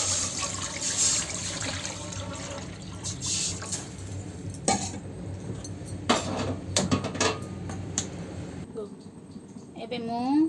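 About a litre of water poured into a cooking pan while making pumpkin leaf curry, a steady close splashing pour with clinks of utensils and a person talking.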